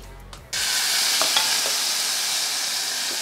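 Onion and tomato are dropped into hot oil with mustard seeds, setting off a loud, steady sizzle that holds to the end after a short quieter lead-in with a few clicks.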